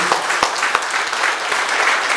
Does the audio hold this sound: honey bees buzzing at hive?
no